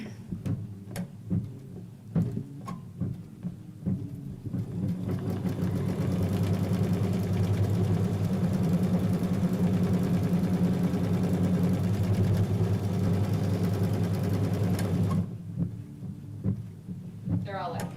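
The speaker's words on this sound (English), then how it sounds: "we've placed our hoop back in the machine. We're going to go ahead and run our tacking stitch" Embroidery machine running a tacking stitch on printed fabric in a hoop, a loud, steady mechanical hum with rapid needle pulsing for about ten seconds, bracketed by clicks and handling noise.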